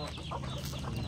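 A chicken clucking in short bursts close by, over a steady low background hum, at a rural spot near woodland.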